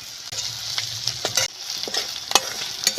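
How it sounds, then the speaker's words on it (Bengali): Onions frying with turmeric, chopped garlic and ginger, with a steady close sizzle under bursts of spatula scraping and stirring against the pan, and no voices. "পেঁয়াজগুলো ভাজবার সময় সামান্য একটু হলুদ গুঁড়ো দিলে রঙটা খুব ভালো হয়"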